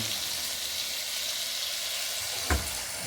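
Ilocano pakbet vegetables sauté in a pan, a steady close hiss and sizzle with one brief clatter near the end.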